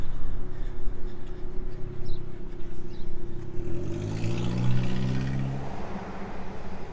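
A car drives past on a beach road in North Myrtle Beach, its engine and tire noise rising as it approaches, peaking close by, then fading away, with no voices.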